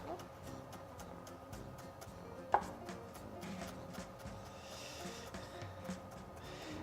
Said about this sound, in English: So Daddy's gonna chop it.